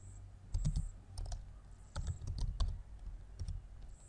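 Typing on a computer keyboard: irregular clusters of soft, close key clicks over a low background hum.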